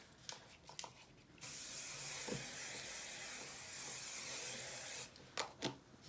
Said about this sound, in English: I'm just gonna spray the curl just a little bit using the Pantene Eye Shine hairspray.